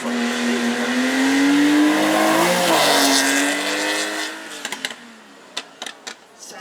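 A supercar at a track event revs hard and accelerates past, its loud engine note climbing and sweeping for several seconds before fading, followed by a few sharp clicks and knocks.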